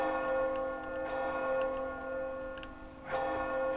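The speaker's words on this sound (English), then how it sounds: "Well, at least the bell was not that loud." A steady city bell rings in a video game set in Bravil, its tones sustained and moderately loud, with a faint clicking tick and a brief extra strike near the end.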